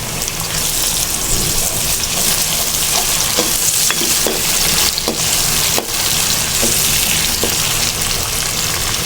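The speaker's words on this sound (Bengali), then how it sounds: "তারপরে দিয়ে দেবো এখানে এই যে আদা বাটা আর রসুন বাটা।" Ginger and garlic paste fry loudly in hot oil with softened onions for bhuna khichuri, a dense continuous sizzle with regular scraping stirs of a spoon in the pot.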